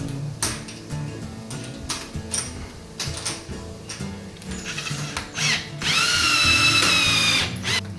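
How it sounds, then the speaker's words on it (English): A drill buzzes in short bursts with clicks and ratcheting between, then a longer steady high-pitched whir as a screw is driven home into a storm door hinge. "And then we run the remaining screws."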